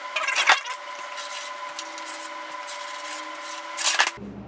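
A pencil scrapes a long line down a wooden board in a workshop, a steady dry rub between two louder scratchy bursts at the start and end, close and alone.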